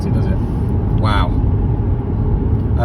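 A car with a four-cylinder engine accelerates hard toward highway speed, its steady engine and road rumble continuous and close throughout, with a brief rising tone near the middle and a person speaking over it.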